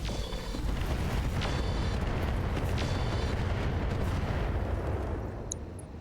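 Mech weapons firing in the modded Roguetech Battletech video game, a continuous roaring wash of explosions and artillery-like rumble with a few brief metallic pings, steady and loud before fading slightly at the end.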